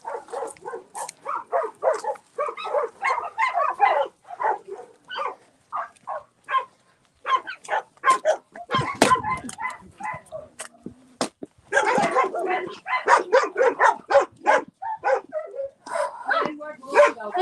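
Several dogs bark and yip repeatedly in a rescue setting, a dense, fairly close chorus of overlapping barks that continues for the whole stretch, with occasional whimpers and some talk mixed in.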